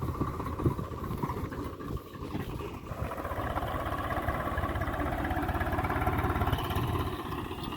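A tractor engine in the Farming Simulator video game drones steadily at a medium pitch, an even, continuous idle-like hum with a brief dip early on.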